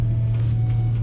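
A lowered 2015 Porsche Macan S driving on a snowy two-lane federal highway, heard from inside as a steady, loud low engine and road rumble with a constant tone and no talking.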